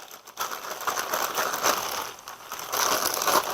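Plastic Ziploc bag holding parmesan coating crinkles and rustles steadily as it is handled and sealed, close and fairly loud, with no talking.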